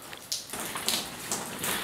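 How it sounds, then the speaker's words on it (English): Rain falling outdoors during a motorbike trip from Malaga toward Casablanca, a steady soft hiss with scattered drop-like taps on surfaces, fairly quiet and continuous with no talking. "Here, as you can listen, it's raining."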